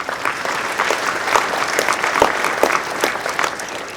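Audience applause at a closing gala at Science World, a steady wash of many hands clapping, fairly loud and continuous with scattered sharper claps, no voices over it.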